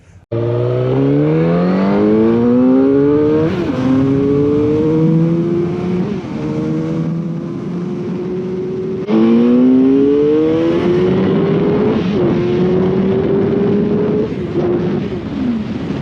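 A stock 2006 Suzuki GSX-R 1000 motorcycle engine revs hard on a dyno, rising through repeated gear pulls with loud, sustained howling climbs and brief drops between them.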